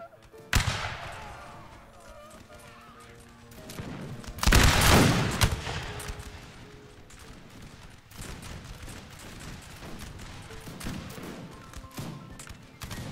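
Musket volleys from line infantry in the Napoleon Total War video game crackle and rumble, with one heavy, loud volley in the middle and scattered firing before and after under soft battle ambience.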